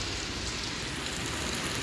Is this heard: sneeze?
no